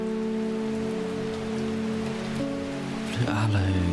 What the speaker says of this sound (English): Enjoy the sounds of rain in my plant shop.